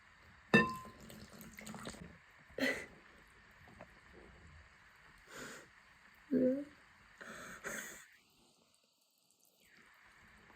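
Quiet, intermittent splashes and stirring as water is poured into a bowl of starch and mixed into a non-Newtonian fluid, in short bursts separated by near silence.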